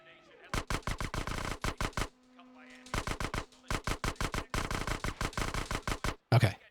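Rapid bursts of SMG fire from Grand Theft Auto: San Andreas on PS2, sharp clustered shots in several volleys with short pauses, loud and close, ending in a heavier blast.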